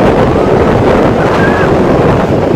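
Strong wind buffets the microphone near the ocean at Chintsa on the South African coast, a loud, steady broadband roar with surf-like rushing throughout and no talk.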